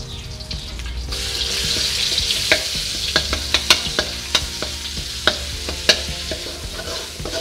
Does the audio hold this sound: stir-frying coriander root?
yes